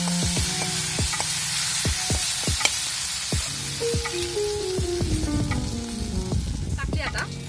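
Garlic and green chilli paste sizzles in hot oil with mustard seeds and curry leaves, cooked over a wood-fired village stove; steady close frying hiss with sharp spatter pops and some scraping of a spoon throughout.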